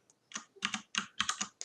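Password typed on a computer keyboard: several quick bursts of close, crisp key clicks in an uneven rhythm, with short pauses between clusters.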